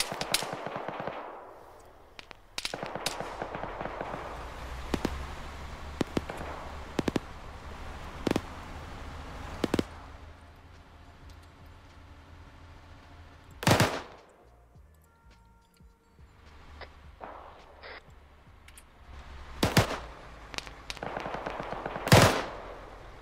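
Gunfire from a vehicle in a military video game, fired into smoke: scattered single shots and short bursts popping at a distance over a low rumble, with a couple of louder cracks standing out.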